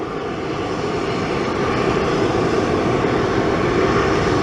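A small American Eagle Embraer E-145 regional jet at a desert southwest airport gives off a steady, broad engine roar that holds loud and close throughout, with no voices.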